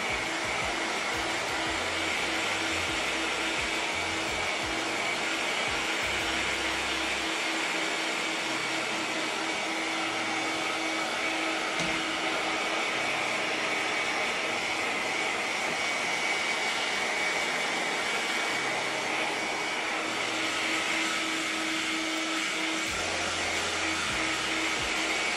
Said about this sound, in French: Et avec le sèche-cheveux, c'est vraiment très très rapide.